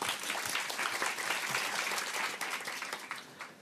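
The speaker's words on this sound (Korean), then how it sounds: "박수로 맞아주세요" Audience applause greets a young entrepreneur from Hongcheon, Gangwon Province, as he comes forward at a youth event, a full burst of clapping that holds steady and then tapers off toward the end.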